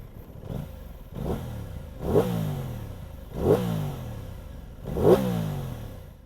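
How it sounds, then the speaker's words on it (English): An Aprilia Tuono 660 naked motorcycle, a 2022 mid-size model, revs hard while riding, rising through the gears in four or five surging pulls with brief dips at each shift, loud and close throughout. "let's hop back on the bike and give you its final run"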